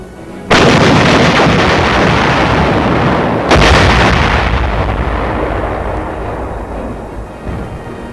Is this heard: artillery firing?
yes